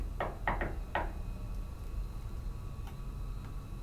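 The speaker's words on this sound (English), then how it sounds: "I'm going to tap on the door" Four quick knocks on a door inside a hotel, closely spaced in two pairs, then a quiet hush of room tone with only faint ticks.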